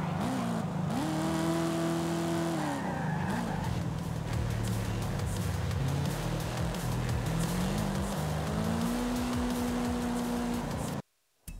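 A Chevrolet Camaro in the racing video game Forza Horizon 5, its engine droning and revving up and down through gear changes, loud and continuous, with tyre noise, before cutting out abruptly near the end.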